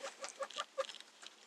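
Hens in a backyard flock cluck and squawk in a quick, choppy string of short calls, close and fairly faint, with no talking.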